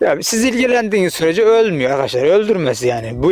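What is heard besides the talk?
No everyday noise stands out behind the speech.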